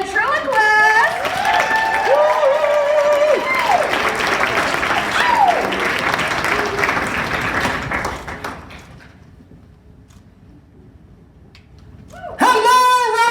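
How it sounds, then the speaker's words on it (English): A crowd at the Rocky Mountain Puppet Slam applauds and cheers loudly for a ventriloquist for about eight seconds, then the clapping fades to near silence before a voice starts talking. "Let's give a huge round of applause for Joshua the ventriloquist!"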